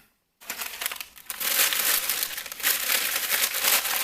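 Packing paper pulled from a box of truck mulch is crumpled and crinkled up close, a dense continuous rustle that starts after a brief silence and swells louder midway, with no talking.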